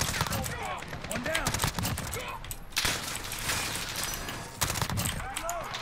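Rapid automatic gunfire rattles in Call of Duty: Modern Warfare, loud dense bursts broken by brief pauses, with a player talking over the shooting.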